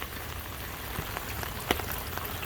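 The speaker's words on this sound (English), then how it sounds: "Which it is indeed actively raining" Steady rain patters down on surfaces, a constant hiss with scattered louder drips, no voices.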